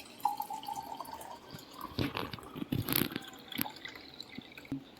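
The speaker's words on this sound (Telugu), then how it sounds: "ఈ గ్లాస్ ఉంది కదా, గ్లాస్లో అయితే కొన్ని వాటర్ వేస్తున్నా" Water pours into a drinking glass for a simple home turmeric experiment, heard as faint, irregular splashes and drips with a few brighter trickling bursts near the middle, close by with no talking.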